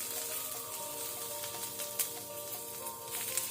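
Curry leaves, crushed garlic and green chillies with a pinch of hing fry in oil over a low flame, giving a steady soft sizzle with scattered small crackles and pops throughout.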